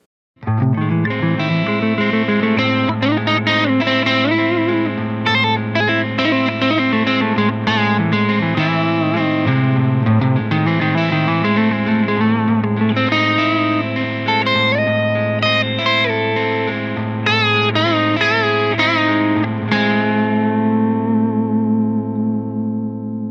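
An electric guitar jams a pentatonic-based line drenched in distortion, echo, reverb and chorus, with dense, continuous phrasing at a steady loud level and a final note left ringing out.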